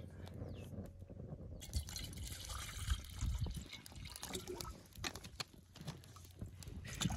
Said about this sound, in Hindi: हमारे बड़े भाई जो है पानी छान रहे हैं पतीले में